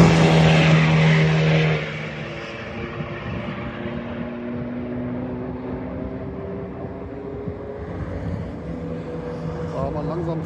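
Race cars circulate on the Nürburgring during an NLS endurance race, with a louder engine pass at the start fading into a steady, more distant drone of cars on track.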